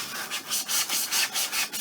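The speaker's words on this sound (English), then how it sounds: "Sawing through styrofoam." Close, rapid strokes of a saw cutting styrofoam, each pass a harsh, squeaky scrape in a steady back-and-forth rhythm.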